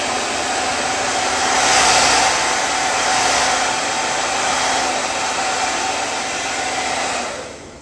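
A hair dryer blows warm air steadily onto freshly applied eyelash extensions, a close, continuous whooshing hum that swells slightly near the start and cuts off just before the end.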